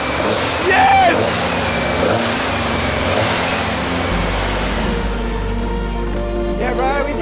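A rear-engined car with carburettors not yet tuned idles steadily after its first start in five years, a low continuous engine rumble under excited voices cheering and talking nearby.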